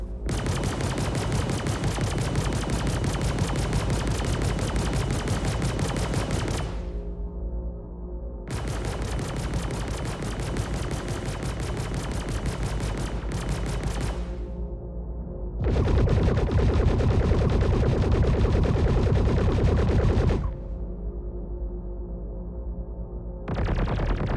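Rapid automatic gunfire from the Panther repeater in Star Citizen fires in long sustained bursts separated by short pauses. The sound is dense and continuous, with no talking.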